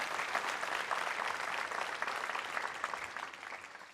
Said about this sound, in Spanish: Le da un fuerte aplauso al Señor Todopoderoso